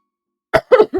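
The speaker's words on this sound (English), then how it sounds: "every time I drink out of this, I always choke" After a silent start, a person gives a few harsh, close coughs in quick succession, choking after a drink.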